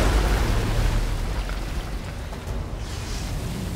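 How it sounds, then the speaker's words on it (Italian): A bomb blast in the horror video game Resident Evil Village, a sustained loud rumbling roar with heavy low-end that fills the whole stretch and slowly eases off without any voice over it. "Mi tira una bomba, guarda."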